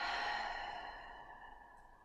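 A slow, breathy exhale through an open mouth, like fogging a mirror, during a beginner vinyasa yoga breathing exercise; one soft, airy out-breath that gently fades over about two seconds, heard alone without talk.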